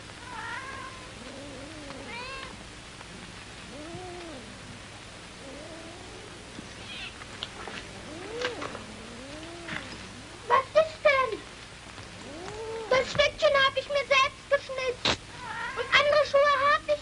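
Several cats meow repeatedly, with rising and falling calls and some drawn-out caterwauling that grow more frequent and overlapping toward the end, while a person talks quietly at times.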